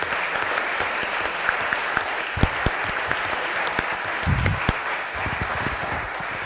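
A conference audience applauds steadily and fairly loudly at a science meeting, a dense, even wash of clapping with a few sharper individual claps standing out.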